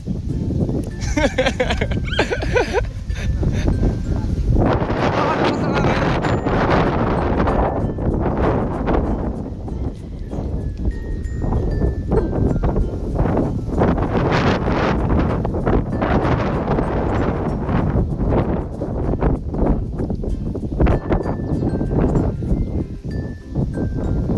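Strong wind buffeting the microphone almost continuously, loud and gusty, with faint voices underneath.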